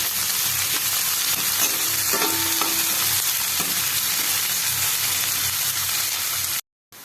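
Chopped carrots, beans and capsicum stir-fry for vegetable fried rice in a hot pan, a steady loud sizzle with occasional scraping stirs, close up and with no talking, before a brief cut to silence near the end.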